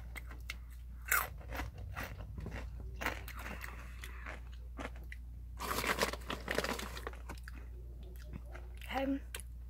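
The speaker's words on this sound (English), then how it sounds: "I'm gonna eat the reddest taki in the bag." Spicy Takis rolled tortilla chips being crunched and chewed up close, with irregular crisp bites and wet chewing over a steady low hum and some speech.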